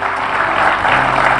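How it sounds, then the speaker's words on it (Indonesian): Studio audience applause fills a short burst on an Indonesian television talk show set, a dense, even wash of many hands clapping, close and steady with no voices over it. "Kasih tepuk tangan dulu buat WSDK."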